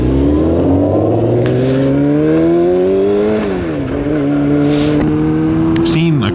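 Loud engine noise from cars on a road, rising in pitch as they accelerate and pass close by, with a brief dip and another vehicle sweeping past near the end.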